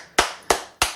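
Three sharp hand claps, evenly spaced about a third of a second apart, loud and close, with no talking.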